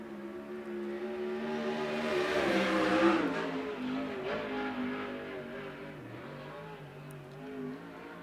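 A USAC sprint car's engine drones steadily through qualifying laps at Central Arizona Speedway, building to a loud near pass around the middle and then easing into a sustained roar as the car circles the track.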